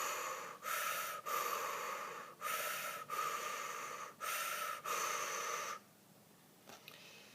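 Forceful breathing through the mouth in a yoga circular-breathing exercise: six loud, rushing breaths follow one another with brief gaps, then fade into quieter, softer breaths near the end.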